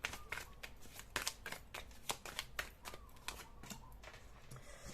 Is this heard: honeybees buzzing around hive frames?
no